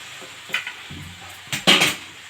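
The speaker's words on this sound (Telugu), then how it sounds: "దీన్ని మంచిగా అంతా కలిసేలాగా కలిపేసుకోవడం" Beetroot fry being turned and mixed in a cooking pan, with a few soft scrapes and clinks of a spoon against metal over a low background, one louder burst of stirring near the end.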